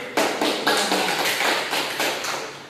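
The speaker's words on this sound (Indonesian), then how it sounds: "Oke, kasih aplaus." Students in a classroom applaud in a quick, rhythmic unison pattern of sharp claps, about a dozen evenly spaced bursts, close and moderately loud.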